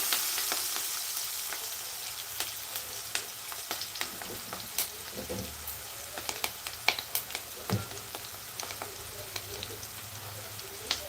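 Ridge gourd curry with turmeric stirred in a hot pan, a constant crackling sizzle with scattered sharp clicks and scrapes of the utensil, growing busier toward the end.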